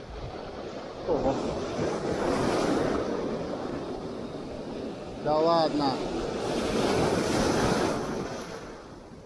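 Sea waves break and wash on the shore at Ashkelon in dirty, choppy water, a loud rolling surf with wind buffeting the microphone, while someone speaks briefly over the roar.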